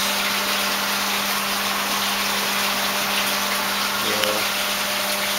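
Water pumps running steadily in a small-scale tilapia aquaculture system, a constant mechanical hum with a rushing, gushing water noise underneath, unchanging throughout.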